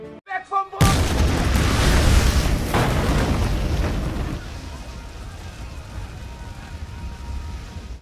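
Huge bomb blast in a World War II film set near Kursk, erupting after a short burst of loud talk and then rolling on as a heavy, sustained rumble that slowly fades to a low roar.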